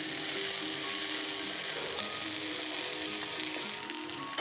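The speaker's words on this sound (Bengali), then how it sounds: "একটু ভাজা করব এখানে" Chopped garlic and fresh curry leaves sizzle steadily in hot oil in a pan for paneer snacks, a dense continuous frying hiss, close and fairly loud, with no talk.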